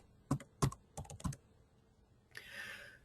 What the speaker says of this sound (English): So typing into the search box